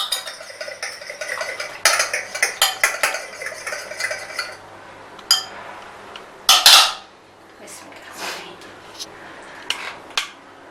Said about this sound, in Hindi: अब तमाम चीज़ों को हम मिक्सिंग बाउल में डाल के इसको मिक्स करते हैं।